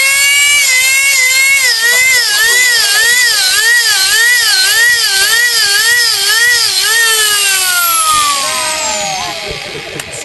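A powerful 10,000 RPM drill used for inoculating mushroom logs whines at high pitch, its tone wobbling rhythmically under load, then winding down as it spins to a stop.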